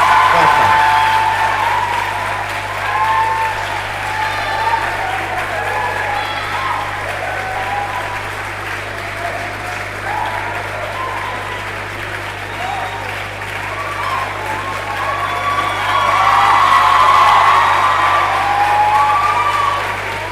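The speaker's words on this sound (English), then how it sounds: "Put your hand together for the HOD of the department, Dr. Ogunira." An audience at an inaugural microbiology department lecture applauds, a loud, sustained wash of clapping that carries on for about twenty seconds, with a steady low hum underneath and some crowd noise mixed in.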